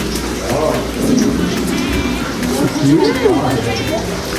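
Heavy rain pours down steadily in a village with low rumbles of thunder, while people talk over the downpour.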